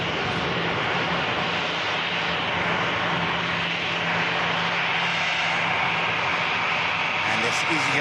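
A KLM airliner taxiing at an airport, its engines a steady broad roar running throughout at moderate distance, with a low hum and faint voices underneath.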